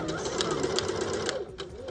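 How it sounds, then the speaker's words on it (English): Sewing machine stitching cording onto a 24x24 pillow made from curtain panels, a steady close mechanical whir with a rapid needle rhythm that slows near the end. "We're gonna go ahead and sew as close as we can to that sewing on roping"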